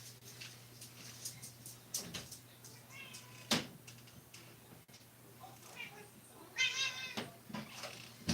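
A house cat meows several times, close and fairly loud, with short calls scattered between quieter stretches, along with some knocks and brief thuds nearby.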